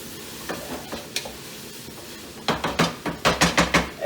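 Potato chunks sweating in a soup pot for cock-a-leekie are stirred with a utensil, giving a soft sizzle and a run of close scraping, knocking strokes that quicken and grow louder toward the end, with no talk.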